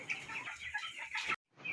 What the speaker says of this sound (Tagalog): Kung mapapansin nyo po, tumutuka sila kasi sakto lang po na 3 PM ng hapon ang kanilang patuka.